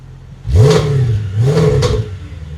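An Audi B8 S5's engine revs twice in quick bursts through a Valvetronic exhaust, the exhaust roaring up and settling back to a rumbling idle between and after.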